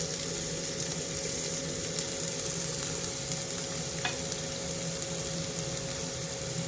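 Finely chopped onion fries in a pan with a steady, continuous sizzle, close and even throughout, with a brief stirring scrape partway through.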